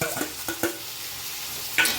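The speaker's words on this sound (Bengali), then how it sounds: "পেঁয়াজ ভাজা হচ্ছে" Steady sizzling of onions frying in a pan, with a few scraping stirs and a sharp clink of a utensil against the pan.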